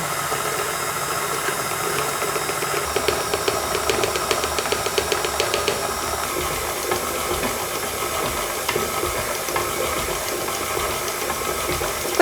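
A steady electric mixer kneads cookie dough for rum Christmas stollen biscuits at low speed, giving a continuous close whirring hum with faint clicking, no talk.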